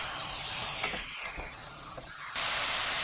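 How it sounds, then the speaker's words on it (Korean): Kohlrabi stir-frying in a pan with fine salt added, a continuous close sizzle and hiss with a few soft scraping movements, swelling louder toward the end, no one talking. "고운 소금 3분의 1큰술 넣고 30초 볶아주세요."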